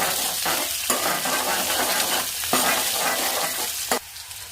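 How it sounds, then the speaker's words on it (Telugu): Onions fry and sizzle steadily in a pan, a dense continuous hiss broken by a few scraping stirs, close and fairly loud with no voices. "ఉల్లిపాయ వేగిపోయింది కదండి"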